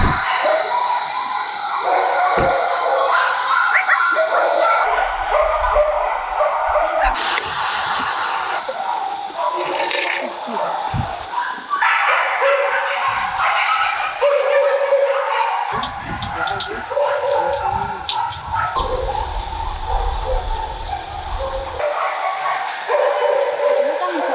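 Dogs barking in the kennel cages of a Busan animal protection shelter, several barks scattered through a busy, noisy space with people talking nearby.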